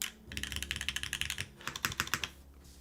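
Clacky, rhythmic keystrokes on a green HOPE TKL mechanical keyboard with a top-mounted carbon fiber plate, two quick bursts of close typing with a short pause between.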